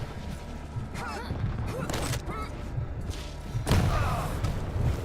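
Heavy weapon fire and thudding impacts come in a few loud bursts during a Quake Champions match, separated by quieter stretches, with someone talking over the action.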